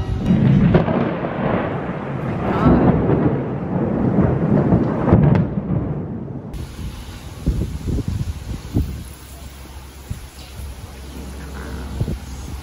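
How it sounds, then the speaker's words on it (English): Deep, heavy thunder rumbles through a summer storm over Busan, Korea, loud and continuous at first, then easing into scattered low booms and crackles over steady rain and wind noise. "There's thunder and lightning going on over here"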